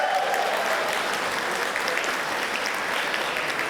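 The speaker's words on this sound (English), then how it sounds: "A round of applause." A gala ballroom audience at a charity ball breaks into a warm, steady round of applause, close and fairly loud, continuous throughout with no speech over it.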